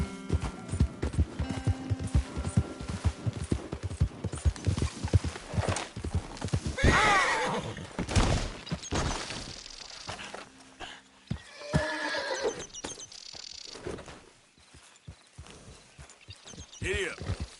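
A horse in Red Dead Redemption 2 gives loud whinnies between brisk, rhythmic clip-clopping hoofbeats, with the gait slowing and speeding at times and only faint voices now and then.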